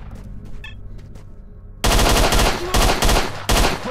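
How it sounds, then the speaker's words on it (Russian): Gunfire in S.T.A.L.K.E.R.: Shadow of Chernobyl begins after a quiet stretch with faint clicks, then loud, close shots ring out in four rapid bursts. "Два выстрела, это хорошо."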